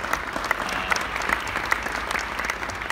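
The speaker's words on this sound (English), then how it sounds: "let's give everybody in this room a big round of applause." An audience at a UNLV golf scholar-athlete banquet claps steadily in dense, sustained applause filling a room, with no pauses.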